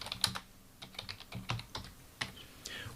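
Steady typing on a computer keyboard while a caption is entered for an image in a WordPress page builder, with irregular clusters of close, crisp key clicks and no talking.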